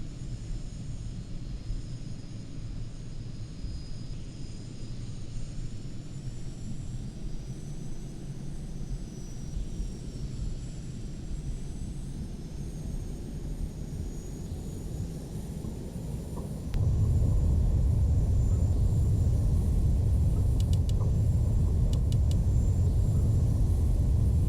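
A jet fighter taxis for takeoff in the flight simulator game Falcon 4 Allied Force, its engine a steady low rumble that suddenly swells into a louder, deeper roar as power is added.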